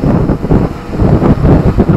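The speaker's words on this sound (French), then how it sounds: "il y a énormément de vent" Strong wind buffets an outdoor microphone in loud, continuous rumbling gusts for two seconds, drowning out everything else while an XK X500 Aircam drone flies nearby.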